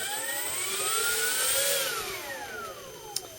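A MrRCSound module on an RC aircraft plays a jet-style engine startup, its whine rising in pitch and then easing down toward a steady idle hum, loud and continuous with no voices.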